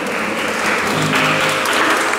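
Loud, full applause from a live gig audience inside a church, a sustained crowd of clapping hands at close range with faint voices mixed beneath.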